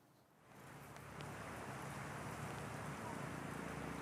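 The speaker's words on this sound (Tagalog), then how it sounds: "Yes, Diego, walang patid nga ang pagbuhos ng ulan dito sa Pampanga." Heavy monsoon rain pours down steadily in Masantol, Pampanga, during Habagat flooding: a dense, constant hiss that swells within the first second and stays loud and even.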